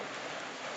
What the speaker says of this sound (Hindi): बारिश हो रही है बाहर, आपको आवाज आ रही होगी